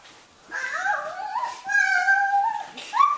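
A dog whimpers and howls in drawn-out, rising and falling whines, close and clear, in several long vocal phrases separated by brief pauses.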